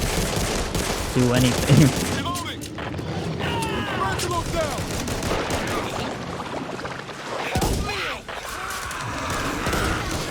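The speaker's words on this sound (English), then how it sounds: "I just missed both shots" Sniper rifle shots in Back 4 Blood Swarm Mode PvP, with several sharp bursts of fire scattered through a busy, noisy game mix, and a player talking over the action.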